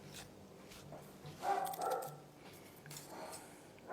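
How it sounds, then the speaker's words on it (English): Dogs shut in a front room bark at something outside, a few faint, muffled barks and yips heard from another room against a quiet indoor background. "I had to put my dogs out in the front room because apparently something is worth barking at"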